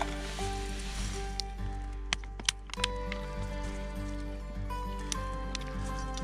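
A homemade backpacking meal sizzles gently in a small camp pan while being stirred, a soft, continuous frying hiss with occasional scrapes and clicks, close and quiet, without talk.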